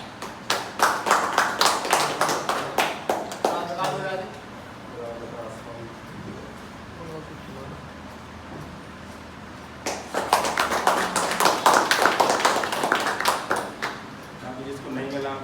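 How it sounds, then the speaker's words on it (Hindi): Audience clapping at an office delivery program, two bursts of rhythmic group clapping separated by a quieter stretch where people talk, the claps sharp and close. "तालियां"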